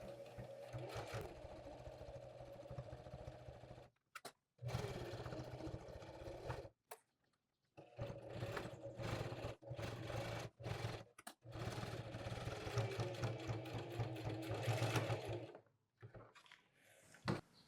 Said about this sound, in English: I'm just going to sew about a 1/8 inch seam all the way around it, and that's going to hold it to the fabric